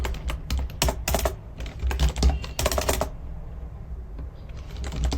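Rapid clicking keystrokes on a computer keyboard come in quick bursts with short pauses between them.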